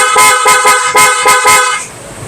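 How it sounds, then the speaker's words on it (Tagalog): A loud, blaring horn on a Yamaha NMAX V3 motorcycle sounds in a rapid series of short, repeated honks, then cuts off, leaving quieter background noise. "Activated yung loud horn."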